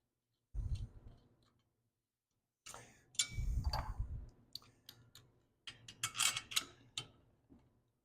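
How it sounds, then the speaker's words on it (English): Bolt threads clicking as they drop into the groove while fitting a cylinder head on a Honda GX340 engine: three short bursts of close mechanical clicks and taps separated by brief pauses. "when that top thread falls down into the groove, it goes click"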